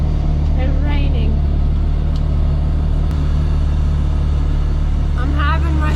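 A truck idling and running during a corn harvest haul in rainy, windy weather, heard from inside the cab as a constant loud low rumble and hum, with brief bits of talk at the start and end.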